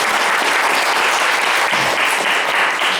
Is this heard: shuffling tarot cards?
no